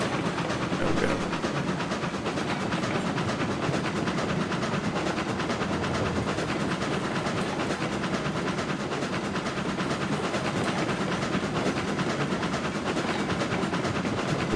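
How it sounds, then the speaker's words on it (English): Model train running continuously around a new home track layout, a steady rattling rumble with faint clickety-clack that stays even and close throughout, no talking. "See the train rocking around"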